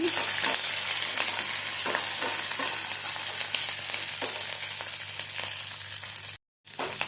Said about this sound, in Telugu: మంటను మీడియం ఫ్లేమ్లో పెట్టుకొని బ్రౌన్ కలర్లోకి వచ్చేంత వరకు పోపుని వేయించుకోవాలండి